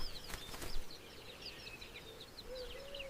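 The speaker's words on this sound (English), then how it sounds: "The bird lands effortlessly on a bull that barely seems to notice its arrival." An oxpecker flaps its wings and lands on a buffalo bull on open grassland, giving a brief close burst of soft wingbeats near the start, with faint chirping birds in the background.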